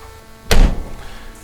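An ArmorTech door on a CF Moto U-Force 1000 UTV shuts with a single solid, close thunk, followed by a short rattle that fades. No one speaks.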